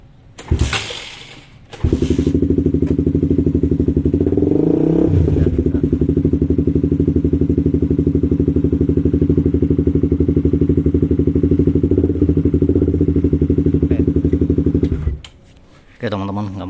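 Honda CB150 motorcycle being started and failing to catch: a long steady low mechanical drone from the starter churning for about thirteen seconds, with a few thumps and clatter at the start and end.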